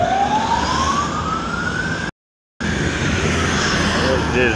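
An ambulance siren on a Moscow radial street, a rising wail cutting through steady traffic noise, briefly interrupted by a gap, then returning with fainter warbling tones in the distance.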